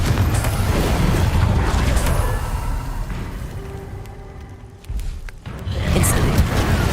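A Confringo explosion spell goes off in Hogwarts Legacy as a deep, rumbling boom that swells loudly. It fades over several seconds, then a thump and a second booming burst follow near the end.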